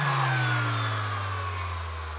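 A Milwaukee M12 cordless sander running alone at close range, a steady electric motor hum with a whining tone that slowly winds down in pitch and loudness.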